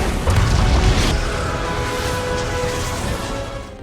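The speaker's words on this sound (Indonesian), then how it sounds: "Mereka pun memancing mobil agar masuk ke dalam portal dan meledakkan nuklir." A nuclear bomb detonates in a Ghostbusters film, a loud sustained roaring boom with heavy low rumble that fills the whole stretch and slowly fades toward the end.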